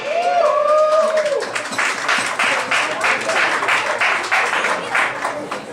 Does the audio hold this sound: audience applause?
yes